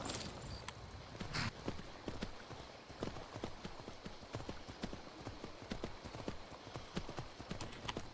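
Horse hooves clip-clop in a steady walking rhythm in the video game Skyrim, crisp, distinct hoofbeats repeating evenly over several seconds.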